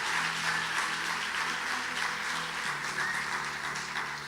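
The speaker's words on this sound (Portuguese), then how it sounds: "Aplauda Jesus!" Church congregation applauding during a worship service, a steady wash of clapping with organ or keyboard chords sustained underneath, even and continuous throughout.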